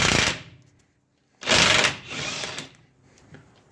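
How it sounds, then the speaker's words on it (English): A 3/4-inch socket on an impact driver loosens the bottom shock bolt on a Ford truck, giving a loud, close rattling burst followed by a pause and then two more hammering bursts, the last one softer. "for the bottom bolt, in my case, 3/4 inch, 3/4 socket on the trusty impact driver"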